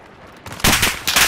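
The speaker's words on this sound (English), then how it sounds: "I'm taking fire!" Incoming gunfire in the Call of Duty: Modern Warfare shooter game: quiet at first, then sudden loud bursts of rapid machine-gun fire that keep going in close, harsh volleys.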